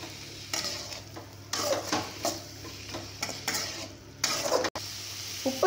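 Chopped capsicum stir-fried in a pan for capsicum rice: close sizzling with repeated scraping strokes of a spatula against the pan, irregular stirring rhythm, no talk.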